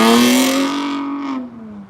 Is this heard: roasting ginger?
no